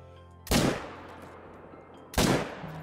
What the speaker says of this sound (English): Well, that was silly, that first shot.